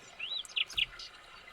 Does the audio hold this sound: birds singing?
yes